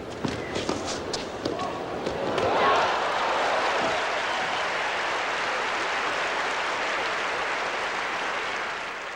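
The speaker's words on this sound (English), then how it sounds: "the crowd came alive, voicing spirited support for the lanky right-hander" A tennis crowd at the 1984 Dallas WCT breaks into sustained applause and cheering for the lanky right-hander, beginning with scattered claps, then swelling into a dense, loud ovation that holds steady to the end.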